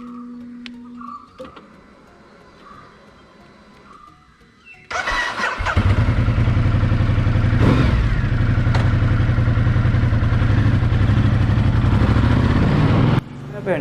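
A Ducati Multistrada 1200S motorcycle starts up after quiet handling sounds, then settles into a loud, steady close-up engine drone with a brief rev, ending abruptly.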